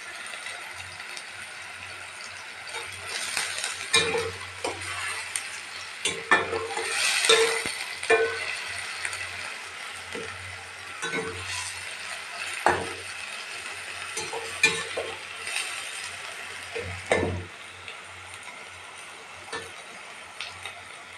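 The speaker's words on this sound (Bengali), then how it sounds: "এবার আমি এই মশলাগুলোকে পুরোর মধ্যে মিলিয়ে দেবো।" Onion with turmeric and cumin powder sizzles in a pan for a shrimp dish, with repeated scraping and clattering stirring strokes near and clear over a soft steady fry.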